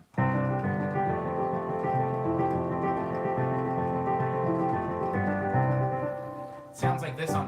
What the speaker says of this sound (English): It sounds like this on piano.